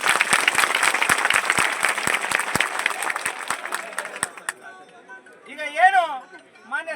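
Loud applause from a crowd welcoming a minister at a Karnataka Home Guard gathering, dense clapping with a few sharp claps, fading out after about four seconds as a voice comes over a loudspeaker.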